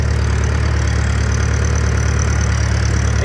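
A John Deere 2350 tractor engine idles steadily and loudly up close, a constant low rumble with even mechanical throb throughout, no voices over it.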